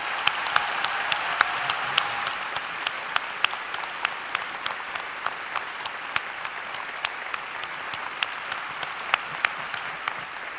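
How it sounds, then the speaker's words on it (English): A conference audience at a nurses' opening plenary claps to thank the sponsors. The applause is steady and fairly sparse, with distinct individual claps ringing out over about ten seconds, and no talk is heard. "please join us in thanking them with your generous applause"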